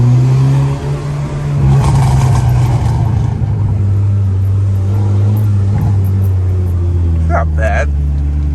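Volkswagen GTI engine revving hard in first gear, a loud sustained low rumble with strong harmonic bands that climbs and then eases off, with brief talk near the end.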